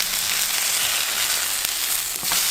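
Cheese frying crisp in a pan, a steady bright sizzle with faint crackles and a couple of soft scraping stirs, close and continuous with no talk.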